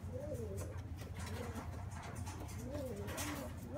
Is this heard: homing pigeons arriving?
yes